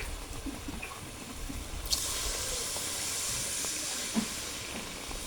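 Water poured into a hot pan of mango cooked down with jaggery bursts into a loud, sudden hiss that holds steady as a broad steaming sizzle for several seconds, with a brief clink partway through.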